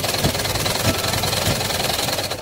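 Sewing machine stitching a dress, a steady mechanical whir with rapid pulsing, close and continuous for the whole stretch.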